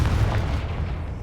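A Confringo fire blast spell from a Harry Potter-style video game, cast during a mountain troll fight: one loud, booming burst that hits at once and then fades into a rumbling tail.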